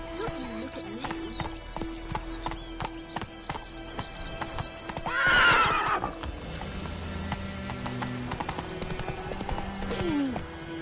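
Roach, Geralt's horse in The Witcher 3, trots with rapid clip-clop hooves, then lets out a loud whinny midway and another short neigh near the end, with a voice speaking over the game sounds.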